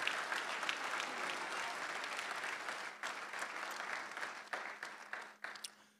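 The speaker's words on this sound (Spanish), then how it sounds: "Dele un aplauso al Señor." A church congregation claps together during a Spanish-language service, dense, steady applause that gradually thins and breaks into scattered claps near the end.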